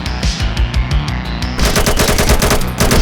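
Rapid automatic gunfire in the Roblox video game, loud and close, a fast unbroken burst of shots that grows denser and heavier partway through.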